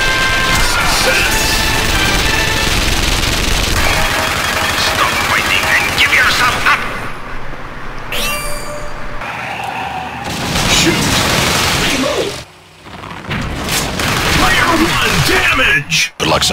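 Loud, dense gunfire and crashing explosions from the Rambo arcade game, running nonstop with brief gaps, blended with game voice callouts and effects.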